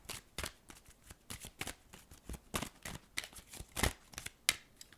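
Tarot romance cards being shuffled and handled, a rapid series of close, crisp riffling and slapping bursts at an irregular rhythm with no talking.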